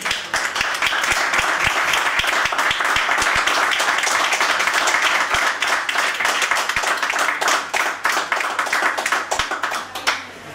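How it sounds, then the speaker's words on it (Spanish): A live audience gives a strong round of applause welcoming a speaker at an event in Cañas, dense continuous clapping with crisp individual hand claps throughout, loud and close. "la recibimos con un fuerte aplauso"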